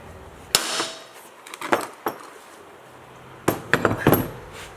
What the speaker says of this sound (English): then we're going to whack the side of it